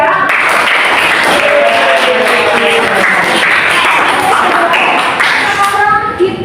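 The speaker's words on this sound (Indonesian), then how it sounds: "Nomor 1 kita beri tepuk tangan dulu ya." A classroom of students applauds, brisk clapping mixed with children's voices chattering and calling out over it, close and loud throughout.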